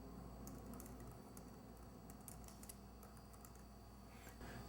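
Typing on a computer keyboard while entering song lyrics for a Ketron Midijay setup, heard as a faint, steady patter of key clicks in a quiet room with no voices.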